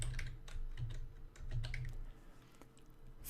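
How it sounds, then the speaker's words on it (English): Someone types a search on a computer keyboard, a steady run of quick, close key clicks with brief pauses, moderately quiet and with no talking over it. "just type in Pope Francis"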